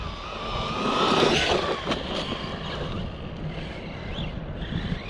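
An RTR RC buggy drives on an outdoor race track with a steady, buzzing motor drone that swells and eases, heard under heavy wind noise on the microphone.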